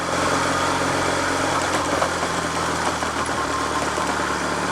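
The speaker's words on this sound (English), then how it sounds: "But it's got a very pleasant engine." A Triumph Trophy TR5 vintage motorcycle engine runs steadily at a constant idle-like pitch, close and continuous, with a faint buzzing vibration and no voices.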